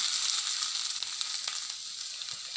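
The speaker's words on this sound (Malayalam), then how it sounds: "എണ്ണ ഒഴിച്ചു കൊടുത്തിട്ട് നമുക്ക് തേങ്ങ ഒന്ന് വറുത്തെടുക്കണം" Grated coconut frying in oil in a pan for a fish curry, a continuous bright crackling sizzle with small pops, close and unbroken throughout.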